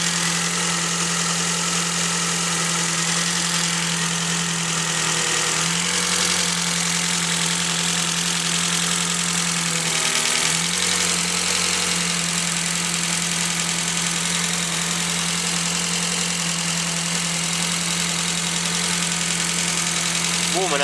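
A Ford Focus engine idles steadily after a cold start with a constant low hum and slight knocking vibration. The tone dips briefly midway, and there is no talking.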